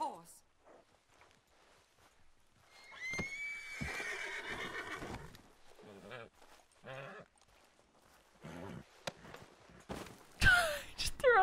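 Horse neighing in Red Dead Redemption 2, a long loud whinny in the middle, with hoof clops, sighs and character voices talking around it.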